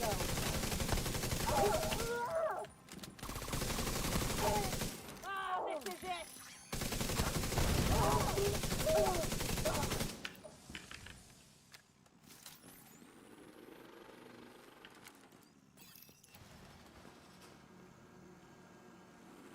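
Bursts of rapid automatic fire from a turret in a video game come in three dense volleys over about ten seconds, followed by quieter mechanical game sounds and low rumbling, with a voice speaking briefly between shots.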